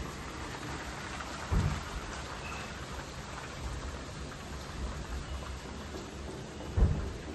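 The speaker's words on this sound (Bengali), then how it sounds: "দেখো পুরো ভরা বৃষ্টি পড়ছে" Steady, dense rainfall roars without pause, with two low rumbles of thunder, one near the start and another close to the end.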